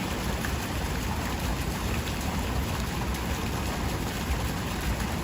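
Heavy rain pours without a break on a Manhattan night in a July storm, with a dense, loud, steady roar and low rumbles that could be distant thunder.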